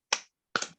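Two sharp hand claps about half a second apart, loud and close with nothing else around them, performed as part of a clap-along routine.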